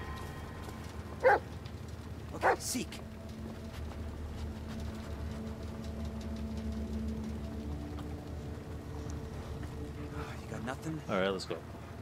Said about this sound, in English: He barked at me.